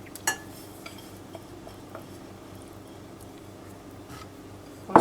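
Carrot cake batter being mixed with oil, eggs and vanilla essence, heard as soft scraping and light utensil taps against a bowl, with a louder clatter at the very end.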